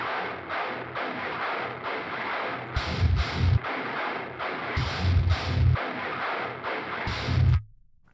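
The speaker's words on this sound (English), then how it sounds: "automatable on and off lo-fi sound if you just want to add it as a little effect" Guitar run through a lo-fi effect in the thall amp plugin: a dense, muffled, band-limited chugging riff with heavier low-end hits that strike in bursts, then cut off abruptly near the end.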